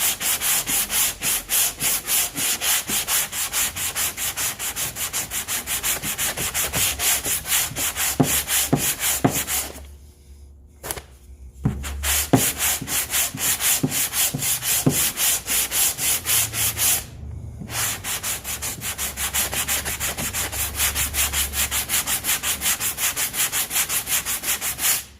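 Sanding block rasping back and forth over cured Bondo body filler on a car body dent, in fast regular strokes, close and loud, broken by two short pauses.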